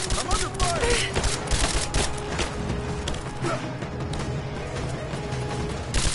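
Gunfire in the video game Rise of the Tomb Raider: rapid bursts of shots crackling in quick succession, loud and dense, with game effects and faint voices mixed underneath.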